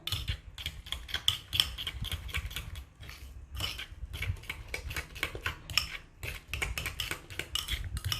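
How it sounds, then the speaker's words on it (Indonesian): A spoon scrapes and clinks steadily against a bowl in quick repeated strokes, stirring filling into martabak batter, close up, with no talking. "Terus kita aduk sampai rata."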